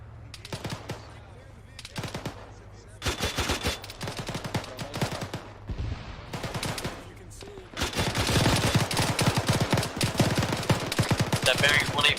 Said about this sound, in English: Incoming fire from the south